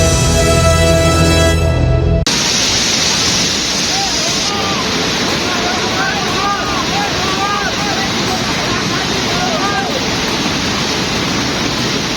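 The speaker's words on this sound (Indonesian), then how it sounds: "Banjir lahar dingin Gunung Merapi menerjang aliran Sungai Senowo, Magelang, Jawa Tengah." A cold lahar flood from Mount Merapi rushes down the Senowo River in Magelang, Central Java, a loud continuous roar of churning water and debris with wind buffeting the microphone, after a brief tonal broadcast sound at the start.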